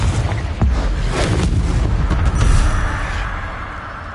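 A Confringo blasting spell in a video game explodes in a dense, rumbling burst that rolls on for several seconds with sharper cracks inside, loud and close.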